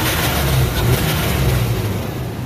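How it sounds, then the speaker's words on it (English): A 1995 Chevy Blazer with a 4.3L engine revs under a quick snap of the throttle, giving a steady, loud, close mid-low engine roar that holds through the whole stretch with no voices. "But I do a snap throttle check here."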